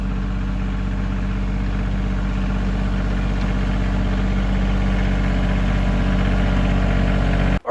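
A riding mower's engine idles close by, a loud, steady low-pitched rumble with an even mechanical throb that holds unchanged for several seconds before cutting off abruptly.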